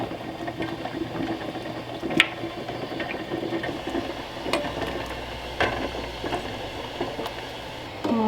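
Glass canning jars are lowered one at a time into a home canner of simmering water, giving sharp glassy clinks and knocks over a steady bubbling hiss, with no voices.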